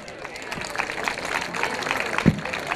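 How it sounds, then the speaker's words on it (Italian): An audience at an adult dance recital claps in a steady patter under a voice that carries on talking through the short burst of applause. "E allora un bel applauso per tutti gli adulti"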